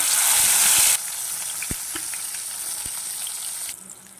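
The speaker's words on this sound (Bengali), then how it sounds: "মাছগুলো আমার ভাজা হয়ে গেছে" Large pieces of fish rubbed with salt and turmeric fry in oil in a wok, giving a strong, close hissing sizzle that drops in loudness partway through, with a few light clinks.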